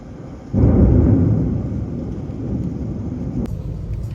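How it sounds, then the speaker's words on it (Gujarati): Thunder from a night thunderstorm rolls in suddenly as a loud, deep rumble, then fades into a sustained low grumble with steady background noise and a sharp crack near the end. "દિવસના તડકો ને રાતે જો કેટલી વીજળી થાય છે"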